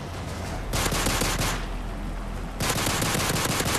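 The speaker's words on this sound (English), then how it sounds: "Yeah, we can shoot it with pistols." Pistol gunfire in Call of Duty MW3 Survival mode on the Underground map: dense, rapid bursts of shots, loud and close, broken by a short lull in the middle before firing resumes.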